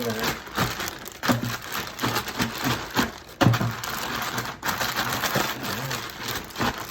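Brussels sprouts with seasoning get shaken around in a plastic zip bag, making close, loud rustling and crinkling bursts that come in uneven waves, with the bag and vegetables thumping against each other.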